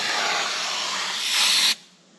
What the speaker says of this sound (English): I just sprayed it on the top portion